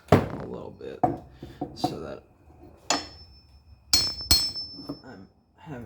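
Wooden bass guitar part being knocked into place during a build, with several sharp taps and clinks scattered among a man's speech, close and distinct.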